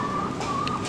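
Laying hens of an Australian breed cluck softly in a small backyard coop, a brief, low, continuous murmur of fowl sounds close by.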